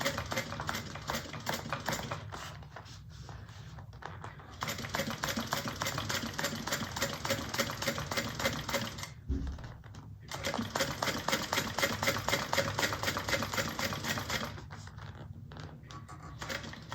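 A sewing machine top stitches a bag, running in long steady bursts of fast, even needle chatter with two brief pauses between runs. It is close and fairly loud, with no talk.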